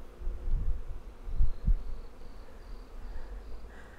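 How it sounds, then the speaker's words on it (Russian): Bees humming around in a forest, a faint continuous buzz with a few soft low thumps, heard up close without any voices. "Покажу, как наши пчелки трудятся."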